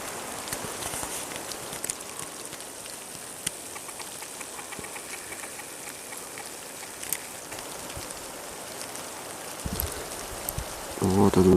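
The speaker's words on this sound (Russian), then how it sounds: "Град идет." Dense pattering of small icy hail pellets striking surfaces all around in a spring forest, a steady granular hiss with occasional sharper taps, louder bursts near the end.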